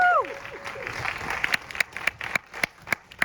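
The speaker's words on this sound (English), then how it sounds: "So let's get a round of applause for that." Scattered clapping from an audience at a documentary screening, sparse individual claps standing out over a hum of room noise, with a brief voice at the start.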